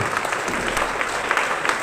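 A crowd claps continuously, a brisk even patter of many hands at steady volume for a couple of seconds.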